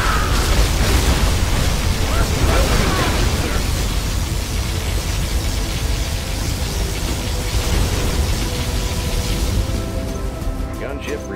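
Particle cannon explosions in a real-time strategy video game, loud rumbling blasts and bursts that run almost continuously at close range, with game voice lines heard over the din.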